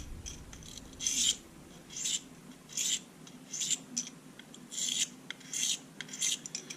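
A utility blade's steel edge scraped across a Smith's pocket hone to weaken the burr, giving about ten short, rasping strokes in a steady back-and-forth rhythm, close and fairly quiet.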